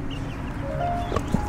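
Chickens in a backyard coop give a few soft clucks and murmurs close by, against a steady low outdoor background, with no talk.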